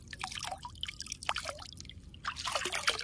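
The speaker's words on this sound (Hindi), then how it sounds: "पानी देखो महानदीर पानी" Clear water of the Mahanadi river trickling and dripping in small, irregular splashes and gurgles, close and moderately quiet, building into a busier burble toward the end with no talk.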